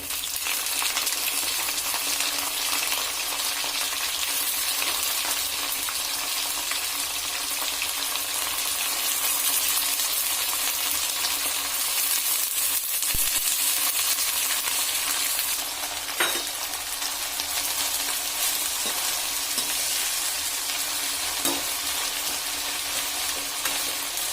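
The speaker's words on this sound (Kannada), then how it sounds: "ಇದು ಒಂದು 5 ನಿಮಿಷ ಎಣ್ಣೆಲಿ ಹಾಗೆ ಫ್ರೈ ಮಾಡ್ಕೊಳ್ಳಿ." Squeezed bitter gourd and onion frying in oil for a bitter gourd gravy, a dense continuous sizzle held at an even level throughout, broken by occasional sharp clicks of a spoon against the pan.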